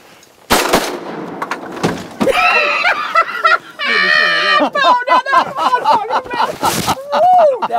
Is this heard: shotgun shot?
yes